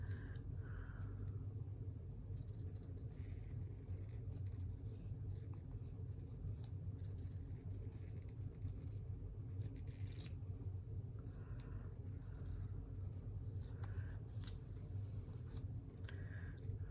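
Scissors snip around a paper template to cut out a flower shape, producing quiet, close, irregular crisp snips and rustling over a low background hum.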